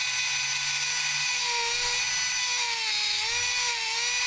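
Tungsten electrode grinder with a diamond wheel spinning inside a small slot, giving a steady high-pitched whine close by with no talk.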